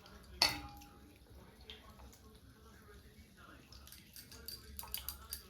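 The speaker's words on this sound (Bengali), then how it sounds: "এটা একটু বাটিতে ধুয়ে নেব, পরিষ্কার জলে ধুয়ে নিই।" Food is washed in a bowl of clean water: one sharp clink of a utensil against the bowl, then soft splashing and dripping, with faint talk in the background.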